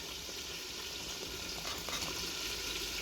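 Chicken and Chinese vegetables with ghee added sizzle softly in a pan, a low, steady frying hiss with faint bubbling and no voices.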